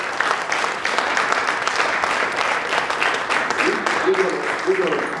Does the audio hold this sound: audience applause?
yes